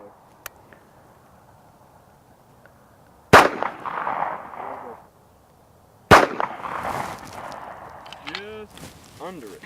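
.45 ACP handgun fired at a long-distance target outdoors: two sharp, loud reports a few seconds apart, each trailing into a rolling echo, with quiet background between and people talking faintly afterward.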